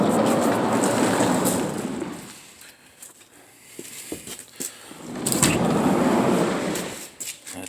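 A big old shop door rolls along its track, giving two long grinding rumbles separated by a quieter pause with a few small clunks, close and fairly loud.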